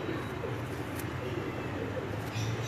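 Cheena pigeons in a Lahore loft coo softly under a steady background hum, low rolling calls repeating faintly with a brief chirp-like accent.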